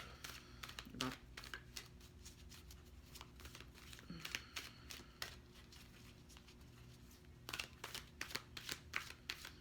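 Wisdom of the Oracle cards are shuffled in quick bursts of crisp, papery riffling and flicking, with short pauses between bursts, close and fairly quiet.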